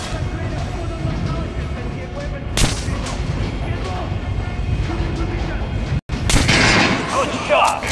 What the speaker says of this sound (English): Try shooting for the center of the regular dummy's chest